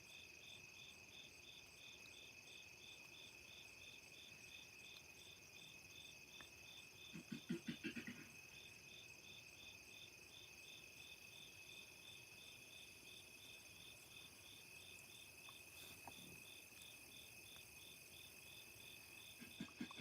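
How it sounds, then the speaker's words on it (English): Crickets chirp in a steady, pulsing trill throughout, faint and distant in a quiet night setting, with a couple of soft thuds partway through. "Now I don't hear a thing but crickets."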